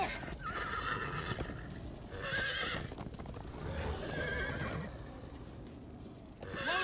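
Horses neigh and whinny repeatedly in the Minecraft Story Mode video game, with loud bursts over a busy background of hooves and game sound and no talk.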